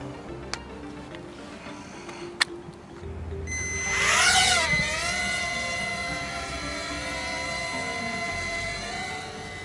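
Walkera Dragonfly QR Infra X quadcopter flying at a skate park, its steady rising whine starting a few seconds in and holding at a near, even level.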